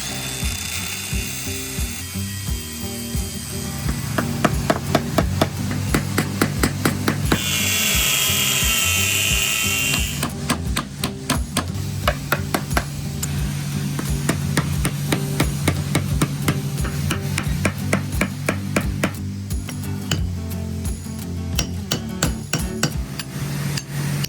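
A flange is cut off a boat seacock with a power tool: a steady, loud mechanical whirring and chattering, close up, runs the whole time, with harsher grinding bursts and no talk.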